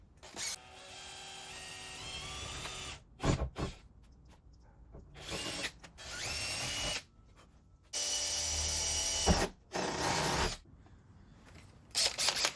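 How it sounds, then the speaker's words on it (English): A power drill whirs in several bursts of a second or two each, separated by short pauses, close by and fairly loud, drilling holes in a Nissan 350Z hatch to mount a drag wing. "I'm gonna go drill some holes in my hatch."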